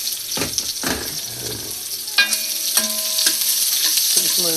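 Onions stirred and frying in a pan, a steady close sizzle with scraping spatula strokes and a few clinks, no talking.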